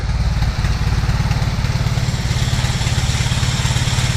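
A motorcycle engine with a quiet exhaust runs close by after a carburettor repair, a steady, rapid low putter, briefly dipping near the start before settling into an even idle.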